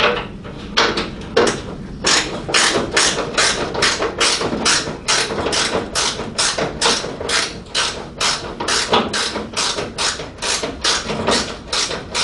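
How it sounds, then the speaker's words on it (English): A period-correct ratcheting wrench turns a bolt on a Morris Minor during restoration, a close, loud series of sharp rhythmic clicks repeating steadily in quick strokes. "Use one of these period correct ratcheting wrenches."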